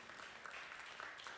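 A church congregation at a New York service gives applause to God, a short, faint patter of many hands clapping heard from a distance.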